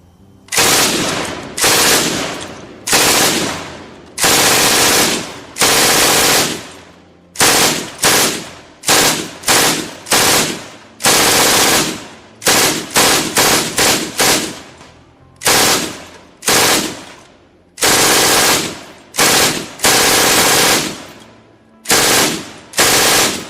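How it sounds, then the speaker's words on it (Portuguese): A WWII MG-42 machine gun fires in a long series of loud, ripping bursts separated by short silences, each burst a rapid buzzing roar of shots. "O som da MG-42 disparando era inconfundível, e aterrorizava os inimigos."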